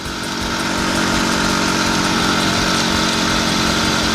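An IZh Planeta 5 motorcycle engine runs loudly at high revs, a steady, strained buzzing drone that holds without letting up.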